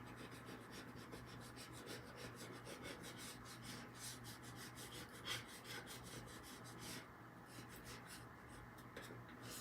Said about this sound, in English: Just use a little paint scraper